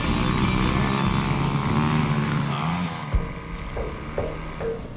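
Motocross motorcycles roar loudly and steadily up close, their engines droning, then easing off into fainter revving and a few distant blips as the bikes pull away.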